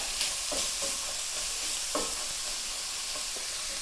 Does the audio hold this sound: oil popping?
yes